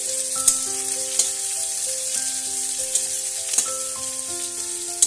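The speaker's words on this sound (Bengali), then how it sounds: "দিয়ে দিলাম পেঁয়াজটা একটু ভালোভাবে নাড়াচাড়া করে নিচ্ছি" Onion fries in mustard oil after chillies, stirred in the pan: a steady close sizzle with occasional scraping knocks, while a soft melodic tune plays underneath.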